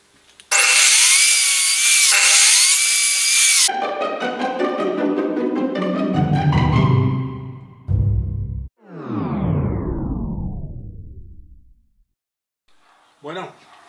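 A power saw cuts angled pieces of wood for a pentagon, starting with a loud, steady cutting whine. The motor then spins down and winds up again in falling and rising sweeps before going quiet, with a short clack near the end.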